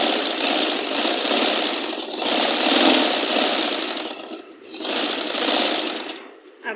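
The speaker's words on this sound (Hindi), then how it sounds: "अब हम फिटिंग की सिलाई लगा रहे हैं।" A sewing machine runs steadily while stitching the fitting seam of a baby girl's frock. The motor whirs loudly and close with a brief slowdown midway, and a voice speaks briefly over it.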